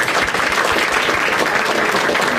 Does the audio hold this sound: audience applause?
yes